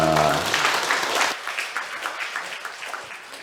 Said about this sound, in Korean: 여러분, 하나님께 최고의 박수 한번 드리겠습니다.